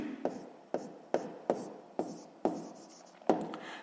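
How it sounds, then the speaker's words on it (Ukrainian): Pen strokes on paper while a math expression is written out by hand, sharp scratchy taps in an uneven rhythm of about seven strokes, close and quiet with no talk. "Записуємо тоді."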